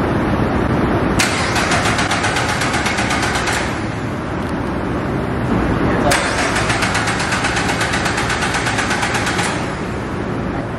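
A turbocharged Subaru BRZ engine cranks with a rapid whirring starter twice, each attempt lasting a couple of seconds, failing to start because the fuel pump isn't running, over a loud rumbling background.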